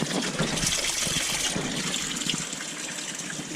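Water gushes steadily into a 1000-gallon aquarium sump filter that serves six 240-gallon tanks, a continuous close, broadband rushing that stays even and unbroken throughout.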